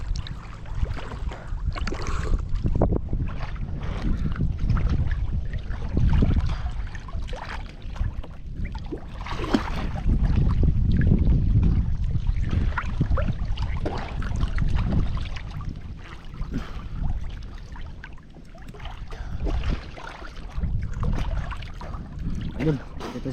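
A small boat moves through water in a mangrove forest, with low, steady engine-and-water rumble and splashing under wind buffeting, while people talk intermittently nearby.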